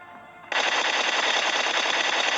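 Sudden burst of rapid automatic gunfire in a battle royale video game, starting abruptly after a brief quiet moment and continuing loud and sustained to the end.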